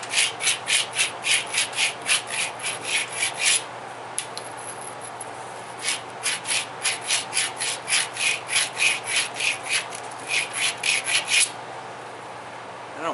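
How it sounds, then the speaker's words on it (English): Blank edges being ground by hand, heard as close, rhythmic rasping strokes in quick back-and-forth runs, pausing briefly between sets, with no talk. "So even though they're already ground, I'd still grind them again."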